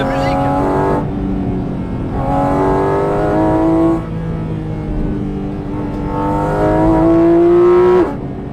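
A sports car engine revs hard through three rising pulls, each ending in a sharp shift, loud and close from inside the car.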